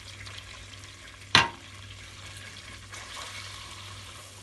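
Flour toasting in melted margarine in a pan, a soft continuous sizzle with gentle stirring scrapes and one sharp clink of a utensil against the pan.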